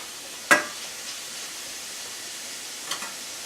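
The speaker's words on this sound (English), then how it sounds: "I'm going to saute these up deliciously" Mushrooms, tofu and onions sauté in a pan with a faint, steady low sizzle, broken by two brief utensil knocks, a sharper one early and a softer one near the end.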